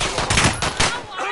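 Rapid automatic gunfire from a Warzone firefight, loud and continuous bursts filling the moment with sharp repeated cracks, close by.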